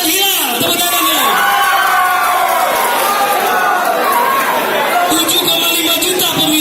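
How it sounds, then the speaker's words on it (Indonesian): A crowd at a youth leadership public speaking event in Aceh cheers, whoops and shouts loudly and continuously, with voices chattering throughout. "Coba tepuk tangan dulu yang mendukung beliau."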